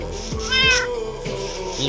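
Cats meow in the Minecraft video game, with a couple of short, close meows and a brief caterwaul-like cry over a quiet background.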